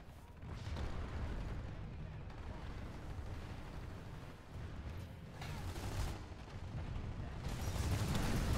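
Rockets strike and burst around a player during a Planetside 2 battle, dense booming blasts and rumbling impacts piling up over a constant roar of combat noise.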